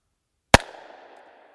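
A single sharp, loud gunshot from a Taurus Raging Hunter .460 revolver fired at an outdoor range, a sudden blast followed by a decaying echoing tail of about a second.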